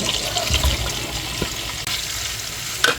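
Bacon sizzling in a pan with butter and olive oil, a steady hissing crackle with a few louder pops and clatters from handling, fairly close and without talk.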